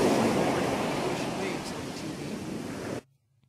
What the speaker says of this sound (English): It's just Ocean Waves at night.